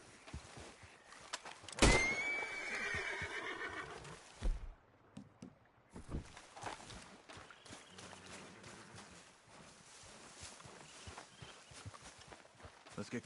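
A horse whinnies once loudly near the start in Red Dead Redemption 2, followed by hoof and footstep sounds, rustling movement and low ambient noise.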